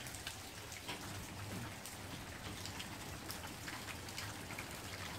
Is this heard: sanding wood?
no